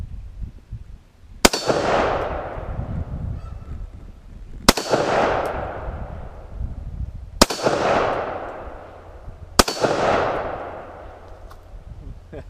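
Four sharp rifle shots of TulAmmo .223 rounds crack at an outdoor range, evenly spaced a few seconds apart, each loud report trailing off into a fading echo.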